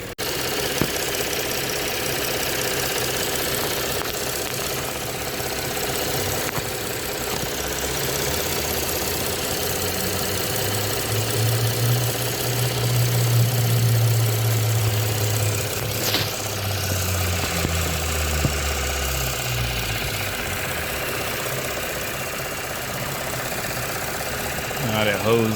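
Chevy or Buick engine running on a test drive of a 2017-19 car being fixed for a P0128 fault, a steady moderate drone with a rise and fall in pitch midway, faint low cabin rumble throughout.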